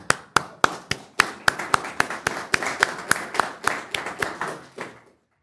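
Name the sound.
audience applauding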